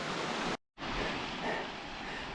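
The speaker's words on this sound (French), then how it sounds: "Voilà les dernières cascades du parcours" A small waterfall in the Ourika valley near Marrakech rushes as a steady broadband roar, fairly quiet and continuous, broken once by a brief dropout.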